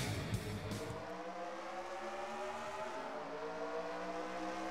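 Race cars in a NRLOA Lakes Region 200 at New Hampshire's Magic Mile roll off as the pace car pulls away, a dense steady engine drone with rising revs from the pack, loud and sustained throughout.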